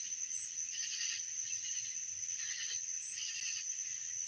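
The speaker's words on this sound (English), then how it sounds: "You guys would probably rather listen to crickets and the frogs and cicadas." Night insect chorus of crickets, cicadas and frogs, a steady high shimmering trill with pulsing swells every second or so, continuous and moderately close, with no talking.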